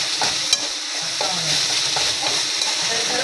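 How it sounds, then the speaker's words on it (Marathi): Leafy greens and onion sautéing in a pan for a village-style Marathi leafy-vegetable dish, a steady close sizzle with scraping stirring strokes throughout and no talking. "हे बघा असं मस्त कांद्यामध्ये परतून घ्यायची तिला"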